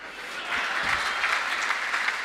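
Sustained applause from an audience at a large Hindi poetry gathering (kavi sammelan) in Jagadhri, a dense, steady patter of many hands clapping that holds evenly loud for the whole stretch with no voices over it.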